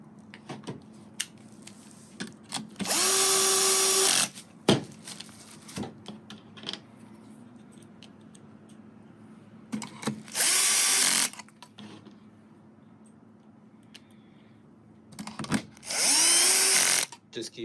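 A power drill set on its lowest setting drives screws during an Apple CarPlay install in an Infiniti Q50, giving three separate high whirring bursts of about a second each, broken by clicks and handling noises.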